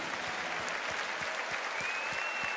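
Audience at a Pe Fábio de Melo CD relaunch show breaks into sustained applause, a steady wash of many hands clapping, fairly distant and even, with a faint tone running underneath.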